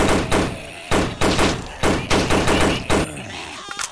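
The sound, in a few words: gunfire while shooting in video game Invention 3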